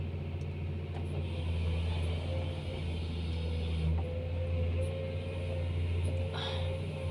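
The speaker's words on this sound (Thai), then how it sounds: "หกล้อมาแล้ว" A six-wheel truck works across a wet, muddy rice-field site, giving a continuous low diesel rumble with occasional metallic creaks and clunks, steady and fairly close.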